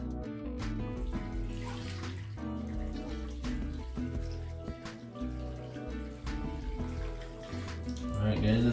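Hot water pours steadily into a sink treated with Drano Max Gel, a continuous close rushing flow that swells slightly toward the end, with a person speaking over it.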